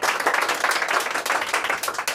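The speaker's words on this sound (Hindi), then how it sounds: "एक बार विद्या के लिए जोरदार ताली बजाइए" Enthusiastic clapping from a room full of students and parents cheers a student who scored full marks, with dense, steady applause running without pause.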